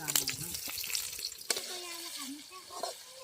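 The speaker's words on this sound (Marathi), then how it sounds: "तेल तापलंय आता आता लसूण टाकून घेते" Garlic and chillies sizzle in hot oil in a pan at an outdoor riverside cook-up. The frying crackles close by with scattered clinks, partly under a person's voice.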